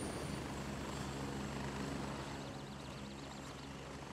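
A helicopter in the video game Gray Zone Warfare gives a constant, fairly quiet rotor and engine drone, with a faint wavering whine as it flies off.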